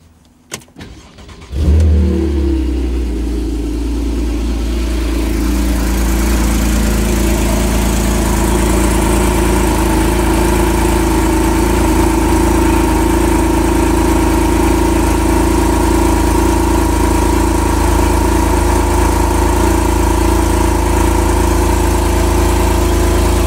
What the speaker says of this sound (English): But this is how the car currently sounds when you start up. So this is a cold start.